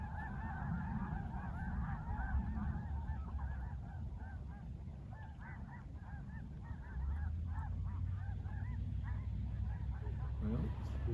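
Flock of geese honking in flight, a dense overlapping chorus of calls running continuously, fairly close, over steady low wind or engine rumble, with a person talking faintly underneath.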